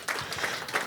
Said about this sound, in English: And so let's give her a round of applause.